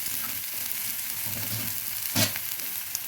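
Chapila fish curry ingredients are turned in a hot pan, giving a steady close sizzle of frying with soft stirring movement and one brief louder scrape near the end.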